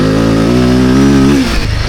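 A motorcycle engine revs hard at full throttle on an off-road trail in Spain, a loud, close, sustained buzzing roar that holds steady and then suddenly drops away.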